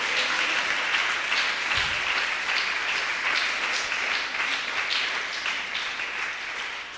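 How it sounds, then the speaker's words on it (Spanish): Congregation at a Pentecostal church service applauding together, a dense, steady roar of many hands clapping close by that carries through the whole stretch and eases slightly toward the end. "Dele un aplauso al Señor."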